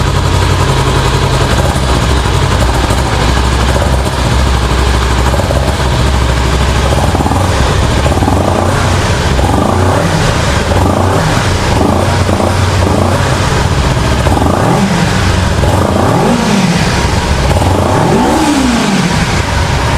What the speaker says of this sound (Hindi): so let's listen out the exhaust note of the Kawasaki Ninja 300